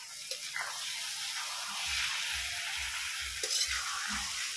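Bitter gourd sabzi with chickpeas, tomato and potato sizzles steadily in a kadhai while a spoon scrapes and stirs in a regular rhythm of about six strokes, close and without talk.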